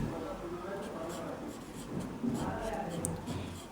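Someone writes on a board during a programming lesson, producing soft scratching strokes close by, mostly under a teacher's ongoing talk.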